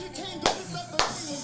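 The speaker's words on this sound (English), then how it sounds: "This way you gotta clap like this." Two sharp, distinct hand claps about half a second apart, close and crisp, over a faint background of voices.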